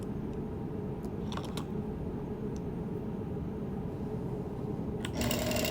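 A sewing machine runs steadily, re-quilting the stuffed trapunto areas of an appliqué quilt in white thread on white fabric; its continuous low hum holds nearly constant and close, with a few light clicks and a brighter burst near the end.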